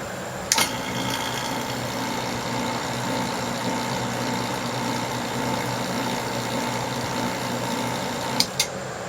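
Vacuum pump running during gold filtering, a steady mechanical hum with a constant tone held for the whole stretch, broken by two brief sharp clicks near the start and the end.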